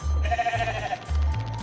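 Sheep bleat in the Dungeons 4 video game, several wavering, nasal bleats in quick succession, loud and close, with no talk over them.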